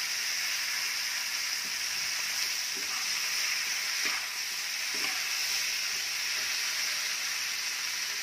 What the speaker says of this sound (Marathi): वाफेवर छान शिजू द्यायची आहेत